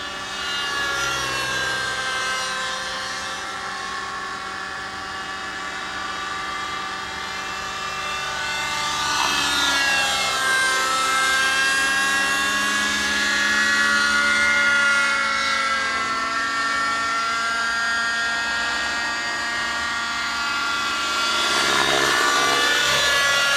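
A Paul Rappi 50 helicopter's rotor blades give a steady whirring drone with shifting whine that swells and fades as it maneuvers, moderately loud and continuous with no voices.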